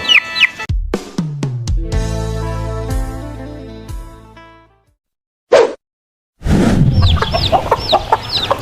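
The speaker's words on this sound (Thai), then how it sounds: "ไก่ตีนโต ลูกไก่ตีนโต ครับ" Chicks of a big-footed chicken breed on a mixed poultry farm peep in a rapid, high-pitched cluster that follows plucked, ringing musical notes and a brief silence.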